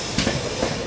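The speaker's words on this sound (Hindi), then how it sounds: "अभी अपनी ट्रेन निकल रही है कूच बिहार से और सामने से आ रही है नॉर्थ ईस्ट एक्सप्रेस।" The North East Express, a passenger train, rushes past with a steady broadband rumble and rattle of wagons, close and continuous for a brief moment.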